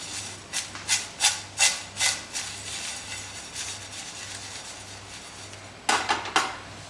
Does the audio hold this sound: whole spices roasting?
yes